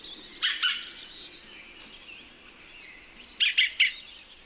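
A green woodpecker gives sharp scolding calls, a short burst early, a lone note, then a quick three-note volley, fairly close over a quiet outdoor background.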